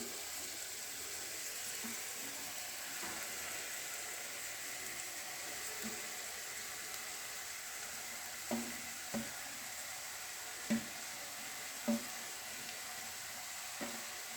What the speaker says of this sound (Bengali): দাদা ভাই দিচ্ছে চালটা, সেদ্ধ করা চালটা দিচ্ছে কড়াতে।